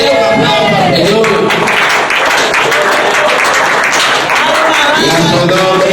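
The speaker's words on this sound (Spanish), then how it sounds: "Den un aplauso al Señor" A church congregation applauds loudly and continuously, with dense clapping mixed with cheers and voices throughout.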